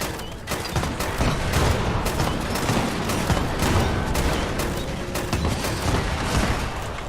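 Rapid, dense gunfire in the post-apocalyptic game Fallout 76, a continuous loud barrage of overlapping shots and bursts that carries on without pause for several seconds.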